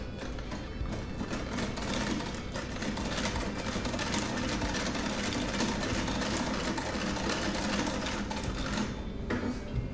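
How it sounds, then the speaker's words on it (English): A 1910 treadle sewing machine drives through thick layers of denim, producing a loud, rhythmic clatter and thumping with the treadle's steady cadence, close up and running for the whole span. "Now here on this treadle machine"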